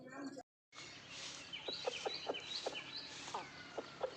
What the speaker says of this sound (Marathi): 5-6 कोंबडे आणलेले आहेत.